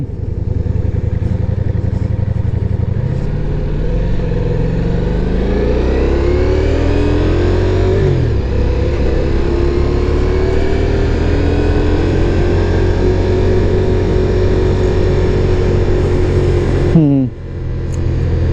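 A Ducati Diavel V4 motorcycle is ridden with its engine note rising and falling through accelerations and gear changes, loud and close throughout, with rushing wind noise over the steady drone before a sharp drop near the end.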